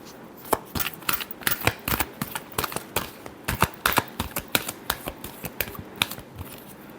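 A deck of tarot cards is shuffled up close, giving a quick run of crisp, irregular riffling snaps and slaps for several seconds, with no voice.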